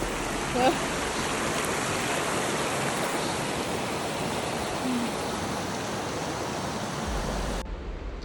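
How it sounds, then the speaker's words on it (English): A river stream rushes along the Eagle Creek hiking trail with a constant broadband roar, close and unbroken, easing slightly near the end. "They cross quite a few rivers on this trail."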